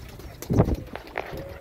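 Albino ivory-white turtle doves without a collar give a few soft cooing calls, close and moderately loud, in a short burst at a poultry yard.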